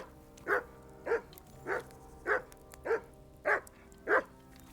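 Mutt the dog in Kingdom Come: Deliverance 2 barks seven times in an even rhythm, each bark distinct and close over a quiet background.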